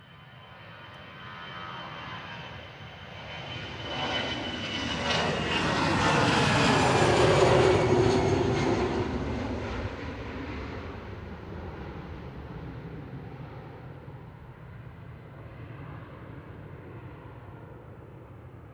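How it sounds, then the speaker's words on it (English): An Aer Lingus airliner passes overhead near Manchester Airport, its engine roar rising steadily to a loud peak at mid-pass and then easing into a sustained fading rumble. "Is this Aer Lingus going over to Dublin?"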